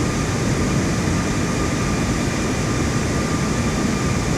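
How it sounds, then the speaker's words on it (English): In Microsoft Flight Simulator 2024, an airplane roars at full throttle during its takeoff run, a dense, constant engine drone with no breaks or voices. "we are full throttle now, so let's go ahead and take off here"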